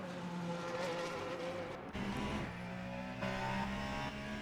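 A race car engine drones steadily through a corner in Le Mans Ultimate, a sustained high-pitched whine with slight shifts in pitch and a brief dip midway, heard alone.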